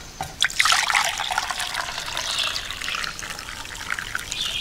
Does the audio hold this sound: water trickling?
yes